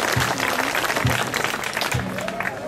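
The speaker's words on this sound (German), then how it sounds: "Erstmal einen herzlichen Applaus" Applause from an outdoor audience at a Moon Festival in a Berlin garden park, a continuous crowd clapping with a low voice or tone briefly sounding beneath it.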